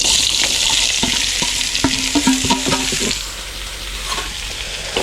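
Loud, steady sizzling of onions frying in hot oil, with clinks and scrapes of stirring over it, close by.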